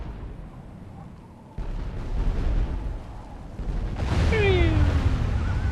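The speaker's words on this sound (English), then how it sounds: "Oh, here comes the mortar shots. We are being attacked!" Artillery barrages from Medieval 2 (Call of Warhammer, The Empire) thunder as mortar shots: deep rumbling booms that swell in loudness over a battlefield, with a descending whistle near the end, and a voice talks over them.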